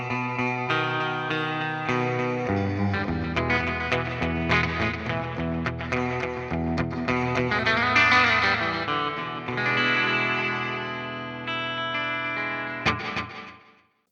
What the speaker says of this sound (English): So here's a sort of slapback thing.